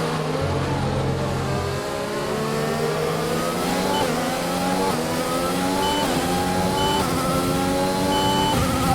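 A race car in the F1 2020 video game drives around the China Grand Prix track, its engine note loud and continuous, rising and falling in pitch with throttle and gear changes, and no talk over it.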